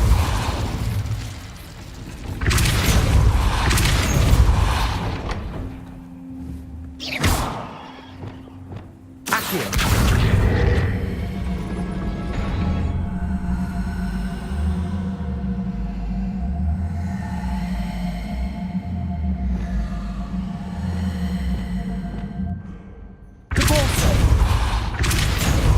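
Incendio and Depulso spells cast at a gate in Hogwarts Legacy, heard as loud bursts and booming impacts followed by a long rumbling, grinding mechanical stretch, close and continuous with a final heavy burst.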